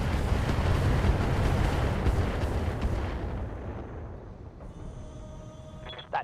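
Turret and mech weapons fire in the BattleTech video game as a heavy, booming barrage that rumbles loudly, then fades into a lighter, thinner tail with a faint electronic tone and a last small thump.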